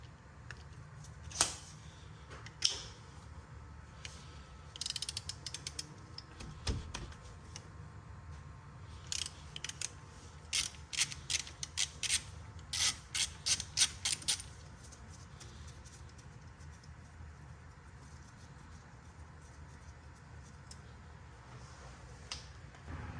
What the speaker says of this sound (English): now I'm going to use a number 5 Allen socket to take out this speed sensor